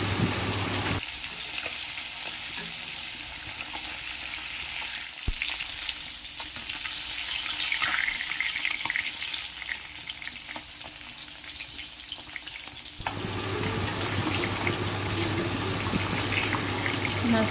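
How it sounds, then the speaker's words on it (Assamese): Fish frying in hot oil in a wok gives a steady, dense sizzle that runs without a break, loud and close. "মাছখিনি এতিয়া ভালদৰে ফ্ৰাই কৰি ল'ম।"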